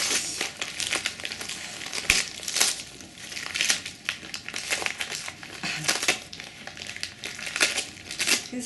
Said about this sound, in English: We'll continue ripping up paper.